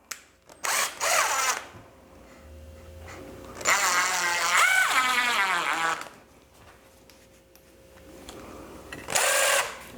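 Power drill driving screws into wooden boards for a porch leaner sign, in several separate whirring bursts of one to two seconds each with pauses between, close and moderately loud.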